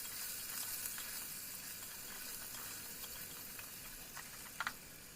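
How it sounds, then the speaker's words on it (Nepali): Potatoes frying in a pan for a green pumpkin curry, a faint, steady hissing sizzle with a few soft crackles and a brief clink near the end. "अब आलु एकछिन भुटिनु आँटिसक्यो।"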